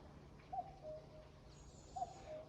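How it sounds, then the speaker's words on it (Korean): A two-note cuckoo call repeats twice from a distance on a mountain trail, soft and clear over quiet outdoor background hiss. "이 산속에는 뻐꾸기 소리도 들립니다"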